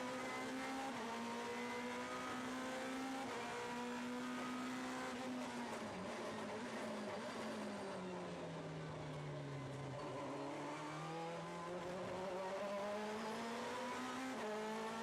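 GT2 race cars at Zolder accelerating hard out of a corner, a loud engine note climbing and falling through gear changes, with tire noise, sustained for about fifteen seconds and no commentary.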